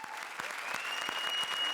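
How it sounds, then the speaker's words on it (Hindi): A studio audience at a comedy show claps steadily in a dense, continuous wash of applause, fairly faint and distant, with a faint tone running beneath it. "सबसे पहले जोरदार तालियों से स्वागत करते हैं हमारे दोनों जजेस का"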